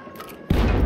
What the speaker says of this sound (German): Jetzt eine Granate!